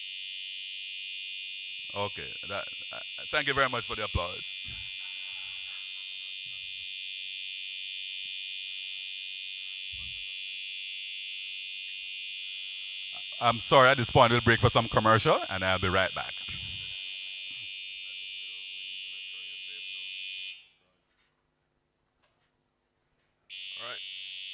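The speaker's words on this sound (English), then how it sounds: "if it is in fact a fire alarm, we should not be staying here" A continuous high-pitched fire alarm tone rings loudly throughout a general assembly meeting in Kingston, Jamaica, while someone talks over it, then cuts out briefly before resuming.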